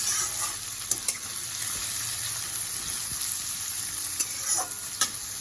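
Steady sizzling of potatoes and onions frying in hot oil, with occasional scrapes and clinks of stirring, close up and continuous.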